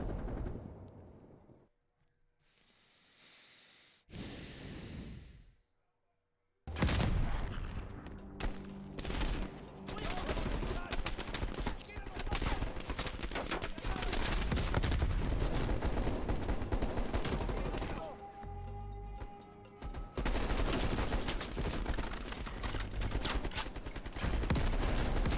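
Heavy gunfire rattles through a Call of Duty Cold War campaign firefight, with sustained automatic bursts and loud shots filling most of the stretch after a quieter opening.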